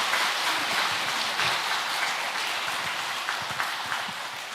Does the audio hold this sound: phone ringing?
no